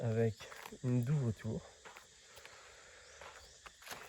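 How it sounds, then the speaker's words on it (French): Crickets chirp in a thin, steady, high trill outdoors in a natural setting with large trees, faint and continuous beneath someone speaking at the start. "il y a les grillons qui chantent"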